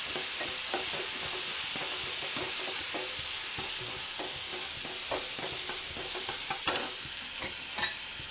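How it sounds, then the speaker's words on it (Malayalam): Crushed green chili, ginger, garlic and shallots sauté in a hot pan for a Kerala sardine curry, with a continuous close sizzle and repeated scraping stirs of a spoon throughout and no talking. "ആദ്യം ചതച്ച പച്ചമുളക്, ഇഞ്ചി, വെളുത്തുള്ളി, ചുവന്നുള്ളി അതിട്ട് വഴറ്റുക."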